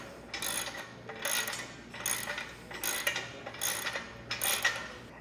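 An M17 socket wrench ratchets a lock nut tight on a truck ladder rack cab bar, six evenly spaced bursts of rapid clicking, close and crisp.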